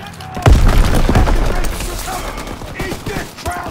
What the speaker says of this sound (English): Enemy grenade!